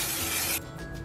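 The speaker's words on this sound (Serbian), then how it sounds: "koristim ovo kokosovo ulje u spreju" A short, loud hiss of coconut oil cooking spray from a can, lasting about half a second and then cutting off sharply.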